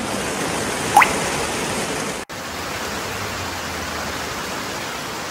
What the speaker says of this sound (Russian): сидим, пережидаем дождик